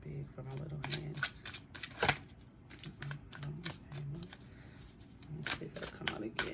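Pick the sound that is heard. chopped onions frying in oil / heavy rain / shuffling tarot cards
shuffling tarot cards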